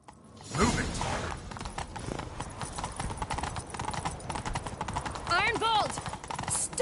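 Hooves of a horse clip-clop in a fast rhythmic gallop through a chase in The Witcher 3, with creaking tack, mechanical clatter and shouted voices over the hoofbeats.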